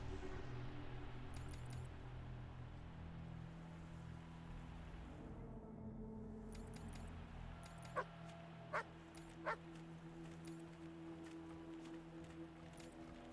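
Dogs bark at an animal kennel in the video game Wasteland 3, three short sharp barks spaced about a second apart over a low steady hum of game ambience.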